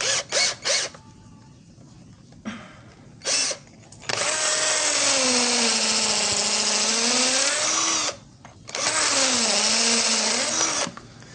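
A SOKIN 21v brushed cordless drill boring into concrete runs in two long sustained whirring bursts, each about four seconds, with its pitch sagging under load, after a few short blips at the start.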